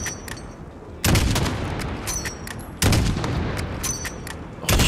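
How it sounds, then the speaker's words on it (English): Loud gunfire in the Modern Warfare video game, sharp heavy bursts at about one-second and two-second gaps, each followed by rattling fire and echo. "I'm shooting as many as I can, bruh."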